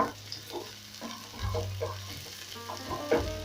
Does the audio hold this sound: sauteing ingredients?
yes